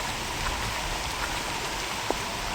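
Rain falls at Vasai Fort in a constant broadband patter over stone and puddled ground, an even wash of drops with one brief louder drip, no voices.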